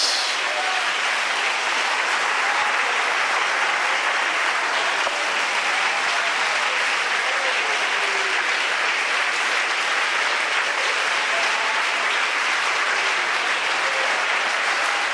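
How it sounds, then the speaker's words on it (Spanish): A church congregation at a Sunday school service applauds steadily, with dense, sustained clapping from many hands that stays loud and even throughout, no break in the sound. "¿Habrá un aplauso para el Rey de Reyes?"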